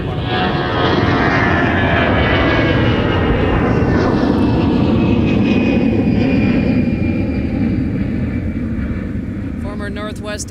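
Airliner taking off from runway 30 left at MSP airport, a loud continuous jet roar that builds and sweeps in pitch as it passes, steady throughout.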